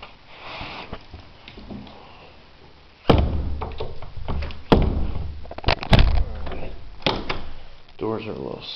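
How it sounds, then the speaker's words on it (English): A swollen interior door in a vacant house for sale, forced open with several loud thumps and scraping knocks, while a voice talks in the room. "Doors are a little swollen from not being used."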